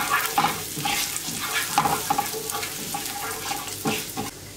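Thyme and chili flakes sauté in a pan, giving a steady soft sizzle with scattered clinks and stirring scrapes throughout, fairly quiet, with no talk.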